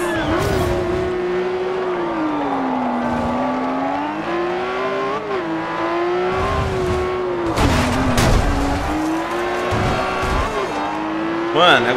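A Lamborghini Aventador in Forza Horizon 2 holds a steady, high engine whine that rises and falls with gear and throttle changes, loud and continuous throughout, with tire noise and a voice talking over it.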